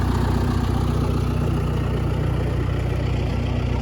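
A tractor engine idles close by, a loud, steady low rumble with a regular mechanical pulse and no pauses.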